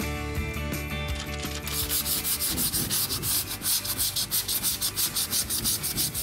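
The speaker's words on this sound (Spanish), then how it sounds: "Momento ahora para gastar, para decapar, para lijar." Rhythmic rubbing strokes of sanding on wooden furniture, brisk back-and-forth passes repeating steadily up close after a brief quieter start.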